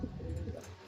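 Soft, low cooing from a racing pigeon, faint and close, continuing steadily through a short stretch with no voices.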